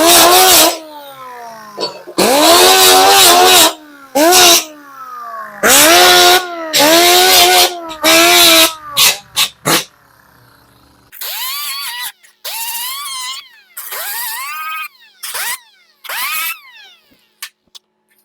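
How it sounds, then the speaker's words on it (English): An angle grinder works over rusted metal on an old racing car body in repeated loud bursts, its whine rising and falling as the disc bites and eases, with short pauses between passes. "Always make sure you're not grinding into the edge."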